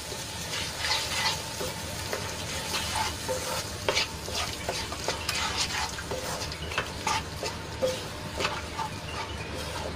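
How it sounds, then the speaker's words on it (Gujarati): Yogurt paste stirred into onions frying in a pan, giving a constant low sizzle with busy, rhythmic scraping and clicks of the spoon throughout, moderately quiet with no voices. "પેસ્ટને સરસ રીતે ડુંગળીમાં મિક્સ કરી લઈશું."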